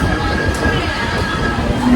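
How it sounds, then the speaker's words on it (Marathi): A Mumbai local train heading toward CST rolls along, heard from inside the carriage as a loud, steady rumble with a faint whine on top. "आता ट्रेन चालू होता. आता आम्ही बसलोय ट्रेनमध्ये."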